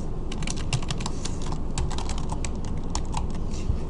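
Keys on a computer keyboard clatter steadily as an email address is typed into Microsoft Outlook account setup, a close, continuous run of quick clicks with no talking.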